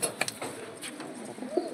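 A pair of pigeons from a coloured fancy breed, kept in Kolkata during heavy monsoon rain, give soft, low cooing calls close by against a faint background hiss.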